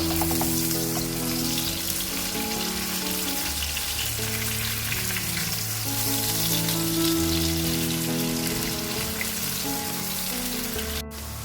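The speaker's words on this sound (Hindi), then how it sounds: "ऑयल गर्म हो चुका है और इसमें हम इसमें प्याज ऐड करेंगे।" Chopped onions sizzle and crackle steadily in hot oil while keema is cooked, a continuous close frying hiss with music playing underneath.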